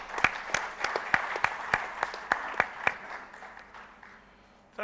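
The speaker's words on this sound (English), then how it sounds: "give him a round of applause" An audience at an industry summit panel discussion gives a round of applause, a steady stream of distinct claps at moderate distance that thins out over about four seconds before a voice begins.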